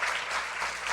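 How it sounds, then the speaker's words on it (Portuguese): A church congregation applauds in a continuous dense wash of clapping, loud and sustained through the whole short moment. "Se é para Cristo, aplauda Ele."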